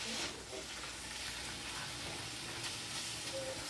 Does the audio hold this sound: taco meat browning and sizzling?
yes